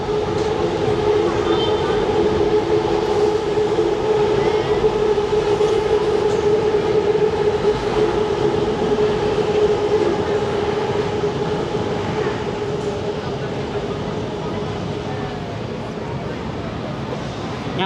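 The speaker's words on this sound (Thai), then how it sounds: "รถไฟมาคู่เลย" Steady rumble of two trains rolling past together, a continuous loud drone with a sustained hum and faint rattling throughout, with some background voices.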